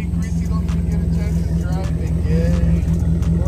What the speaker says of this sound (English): I'm gonna show you how a real V8 gets down.